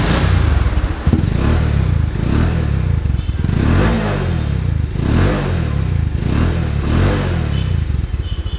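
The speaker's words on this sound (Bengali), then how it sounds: "প্রথমেই আগে সাইলেন্সারের সাউন্ডটা শুনি" A used 2018 Bajaj Pulsar with about 5,746 km on it idles at the silencer, a loud close throbbing exhaust with rhythmic pulses and a few throttle blips, no voices.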